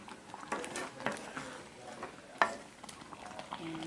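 Ube halaya being stirred in a pot, with soft scraping and sticky patters repeating irregularly up close, plus one sharper knock of the spoon against the pot.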